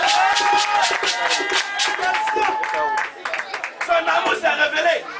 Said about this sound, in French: Est-ce que tu peux donner acclamation à Jésus?